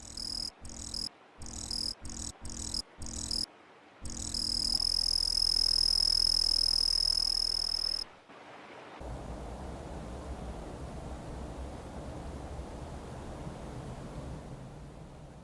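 Pine tree crickets chirp loudly on an autumn night, a dense steady trill of insects joined by frog-like calls, continuous and close throughout with no voices.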